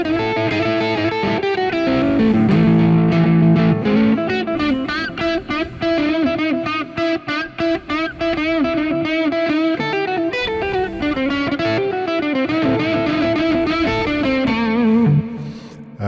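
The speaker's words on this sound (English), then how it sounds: "You play a little bit with Distortion, you play pretty fast." Distorted electric guitar plays a fast psychobilly rock and roll riff with twangy bent notes, loud and close, with quick choppy rhythmic bursts and no voices.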